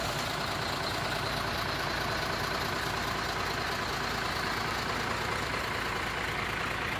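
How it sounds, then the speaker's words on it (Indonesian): A crashed trailer truck's engine keeps idling after leaving the road and hitting the barrier, giving a loud, steady, low rumbling drone with no breaks and no voices. "Dan mesin pun masih hidup ya bosku."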